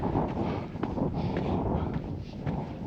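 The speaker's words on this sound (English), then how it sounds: "It's kind of windy." Steady wind gusting across open desert near Kanab, Utah, a continuous broadband rush with slight swells in strength, close to the microphone and running the whole time.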